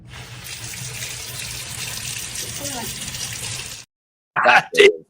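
Tap water runs steadily into a sink for several seconds, close and fairly loud, then stops abruptly, after which a voice speaks briefly.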